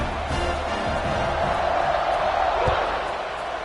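A football stadium crowd roars steadily after a kickoff, a broad sustained wash of cheering with a few whoops and a thump, carrying on without a break for several seconds.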